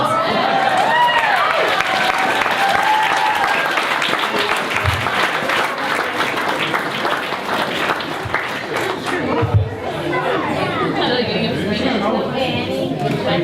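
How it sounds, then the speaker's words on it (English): Wedding guests applaud a speech by Stephanie, a dense, steady wash of clapping from a large crowd mixed with cheers and chatter, with voices calling out over it for the full length. "Let's give Stephanie a round of applause."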